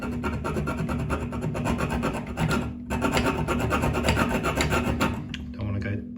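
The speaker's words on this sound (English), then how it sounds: "I'm just going to try and cut this olive off, see if I can do it." A brass compression olive being cut off a copper pipe with a hand tool gives a steady, close-up rasping scrape that runs almost without a break, with a short pause partway through, and no voices.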